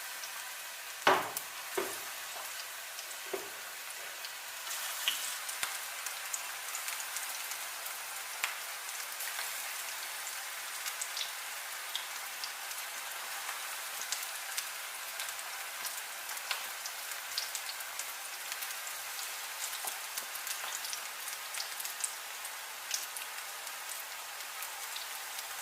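Cauliflower pieces frying in hot oil over high then medium flame, a steady dense crackling sizzle that runs continuously at moderate level with a few sharper pops near the start, no voices.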